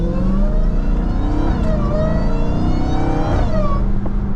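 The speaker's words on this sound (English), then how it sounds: "Love that sound. That's like the best thing about this car, bro. That sound. I love that whine." A Dodge Charger Hellcat's supercharged engine revs loud and close in a wet, rainy drive, a steady roar with a high whine rising and falling through two pulls.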